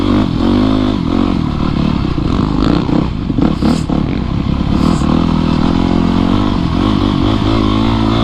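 A dirt bike ridden over dirt trails on a trip from city streets to the mountains, its engine droning loudly and steadily with rough clatter and scraping from the terrain throughout.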